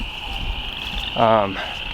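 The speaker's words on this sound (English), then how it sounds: "Those frogs are pretty loud" Frogs and insects near a garden keep up a steady, high, chirping chorus throughout. Someone speaks briefly over the calls.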